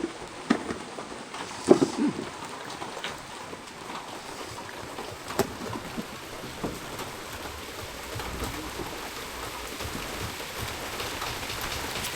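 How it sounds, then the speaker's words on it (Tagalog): Rain falls steadily and faintly, a soft, even patter on surfaces with a few slightly louder drops. "Ulan talaga."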